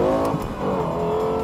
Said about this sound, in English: as I drive around here on the racetrack in the LFA